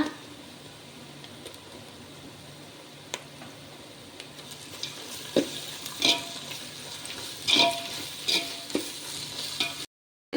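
Ginger and garlic are stir-fried in a pot for a Coimbatore-style drumstick biryani, a soft sizzle with spatula scrapes and clinks that grows busier toward the end before a brief cut.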